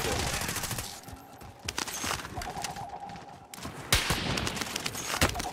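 Rapid bursts of automatic gunfire crackle through a video game shootout, with sharp individual shots and short fusillades arriving in uneven clusters, some close and loud, others more distant, under occasional player chatter.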